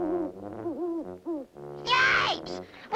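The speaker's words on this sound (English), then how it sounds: "Sounds like Friend Owl to me." A cartoon owl gives warbling hoots that rise and fall in pitch, followed by a brighter, shriller call near the end, loud and close with no talk over it.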